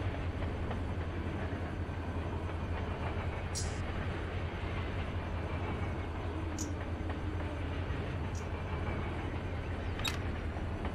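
Heavy, average-length freight train rolling in the Run 8 Train Simulator game on the Fitzgerald Sub, a steady low rumble with a few faint sharp clicks over it, no clear talk.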